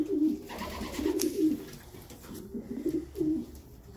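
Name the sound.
racing homer pigeon cooing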